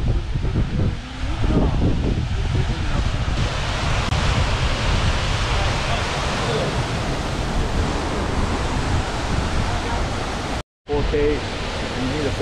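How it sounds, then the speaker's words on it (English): Waterfall at Öxarárfoss in Iceland, a steady, loud broadband roar of falling water close by that runs without a break, with a brief cut near the end. "Atsara Falls waterfall."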